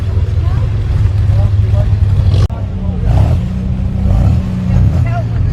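An MGC classic car's six-cylinder engine at a festival of transport and classic car show, giving a loud, close, steady throaty drone that swells as it revs.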